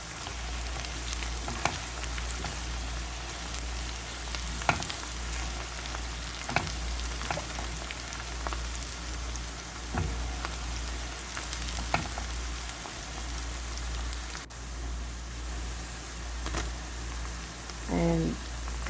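Onion and whole spices frying in canola oil, a steady loud sizzle with crackling pops and occasional stirring clatter, continuous throughout.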